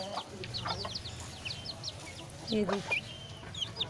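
Hens cluck and chatter in a desi backyard coop, a nearby rooster-type call rising midway, while a person speaks briefly over the flock.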